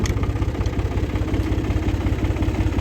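A tractor engine idles in neutral with a loud, close, steady low chugging pulse that throbs evenly throughout.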